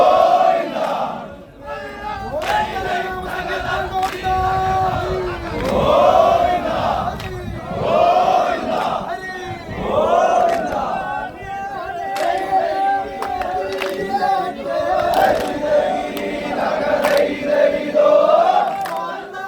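Oarsmen and crowd at the Aranmula snake boat race shout in rhythmic, chant-like surges, a loud massed group of voices rising and falling in waves.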